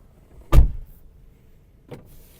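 Two short mechanical whirs from a 2010 Skoda Octavia's power window motor, the first louder and closer, the second fainter about a second and a half later.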